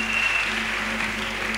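A church congregation applauding in praise, steady sustained clapping at moderate volume with a faint tonal hum beneath.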